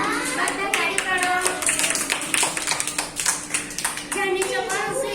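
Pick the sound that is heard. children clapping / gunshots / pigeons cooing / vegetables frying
children clapping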